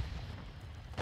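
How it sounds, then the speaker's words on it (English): A grenade explosion in Call of Duty: Modern Warfare II, a one-second deep, rumbling boom that fills the low end steadily with no voices over it. "Throw a nade over"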